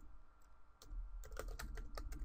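Keys clatter on a computer keyboard as a web address is typed into an Outlook email, a quick run of soft, faint clicks over a low hum, with no voices.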